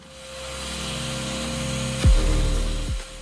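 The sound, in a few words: saw cutting timber to length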